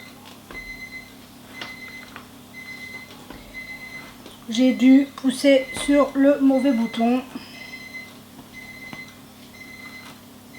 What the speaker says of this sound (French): c'est rien, c'est mon minuteur